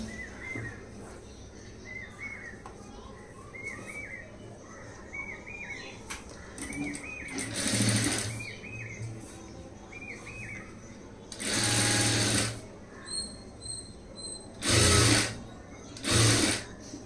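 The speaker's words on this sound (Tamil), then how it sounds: "இதே மாதிரி இன்னொரு ஸ்லீவ் ஜாயின் பண்ணிடலாம்" A sewing machine stitches a blouse sleeve in short loud bursts of running, separated by quieter gaps, while birds chirp faintly in the background.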